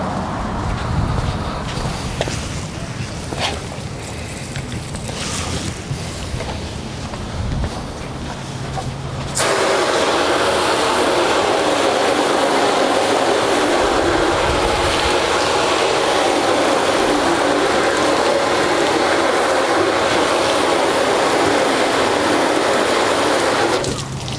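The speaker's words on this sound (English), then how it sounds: "Let's hit it with the hose." A garden hose sprays water onto a car tire after it is scrubbed with Bleach White cleaner, starting abruptly partway through as a loud, steady broadband hiss that continues unbroken to the end.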